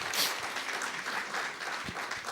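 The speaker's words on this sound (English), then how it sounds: "So please give a large applause to Suzuki-san." Applause from the audience at a young entrepreneur award final after a robotics presentation, a steady, moderately faint wash of many hands clapping throughout.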